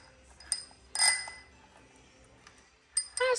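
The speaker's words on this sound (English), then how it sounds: "A bell for your bike." A bicycle bell, opened as a Christmas gift, gives several short bright dings and clinks at irregular moments, close by with quiet pauses between them.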